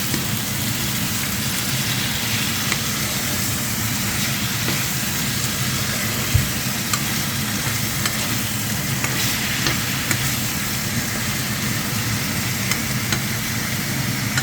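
Baby squid stir-frying in a hot pan, a steady dense sizzle and crackle running throughout with faint stirring scrapes, close and fairly loud with no talking.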